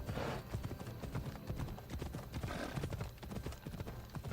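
Horse hooves clip-clop in the video game Assassin's Creed Odyssey, a rapid, continuous rhythm of galloping hoofbeats that stays close and steady throughout.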